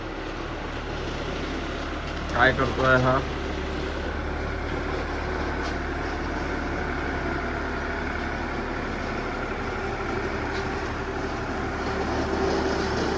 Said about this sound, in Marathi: आपला ट्रॅक्टर आलेला आहे, आपण बघूया